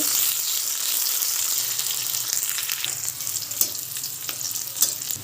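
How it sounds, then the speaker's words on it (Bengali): A bay leaf and chopped onion hit hot oil for a beef and raw banana curry, producing a close, continuous sizzle broken by occasional spatula clicks while they are stirred, with no talking. "তেলটা গরম হয়ে গেছে এবার দিয়ে দেব একটা তেজপাতা আর দিয়ে দেব একটা পেঁয়াজ কুচি দিয়ে এটাকে ভালোভাবে নেড়ে দেব"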